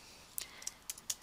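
A few light, quick keystrokes on a Mac computer keyboard while filtering records for a mail merge, soft, close clicks in a short irregular burst against a quiet room.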